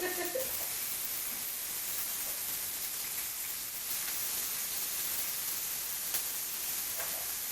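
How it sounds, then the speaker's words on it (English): Steady, bright hissing sizzle of water hitting a hot pan, continuous and close, with no talking over it. "And there's that sizzling water."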